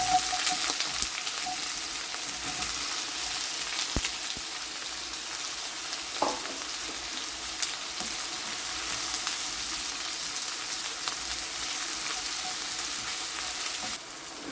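Onions frying in a pan for pepper chicken, a constant close sizzle with occasional stirring clicks and scrapes, steady throughout.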